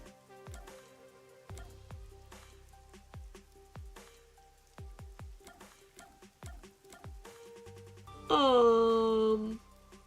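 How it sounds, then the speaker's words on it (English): Rain in Master Detective Archives falls as sparse, separate plinking drops with quiet gaps between them, then a louder bright chime swells briefly near the end. "this rain's getting on my last nerve too"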